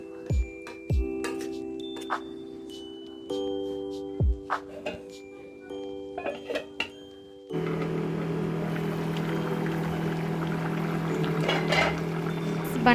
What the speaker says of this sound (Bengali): মাছ কষানো হয়ে গেছে, দেব আমি একটু পরিমাণ জল।